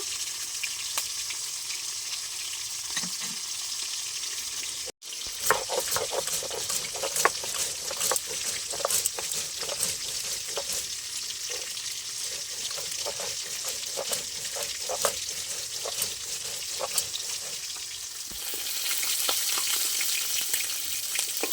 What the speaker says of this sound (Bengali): আমার মাছগুলো সব ভাজা হয়ে গেছে, এবার আমি তুলে নেব।